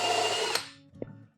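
A power drill pre-drills a screw hole in a wooden workpiece for a shop-made horizontal slot mortiser, a close high whine that winds down after half a second, followed by a small tap, with no talk.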